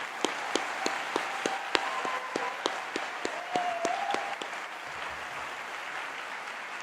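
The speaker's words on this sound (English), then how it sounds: "Can I please ask for a round of applause for our amazing order," Applause at a university Faculty of Health graduation convocation: a steady round of clapping from the audience with distinct individual claps near the front, fading out after about five seconds.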